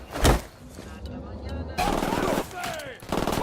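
Video game gunfire cracks in loud close bursts, an opening shot followed by rattling volleys, with a voice speaking over the action.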